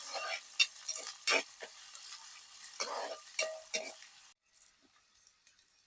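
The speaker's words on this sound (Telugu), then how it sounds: "అల్లం వెల్లుల్లి పేస్ట్ పచ్చివాసన పోయేంత వరకు ఇలాగ నూనెలోనే పెడతాను" Ginger garlic paste fries in oil for a small shrimp fry, with soft sizzling under repeated scraping and stirring strokes of a spoon against the pan, fairly close, then quieter after a pause.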